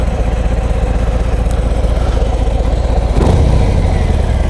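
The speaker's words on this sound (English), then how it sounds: "The exhaust is a Screaming Eagle." A Harley-Davidson FXDR 114 with a Screaming Eagle exhaust idles with a loud, lumpy low throb, then gives a short rising rev near the end.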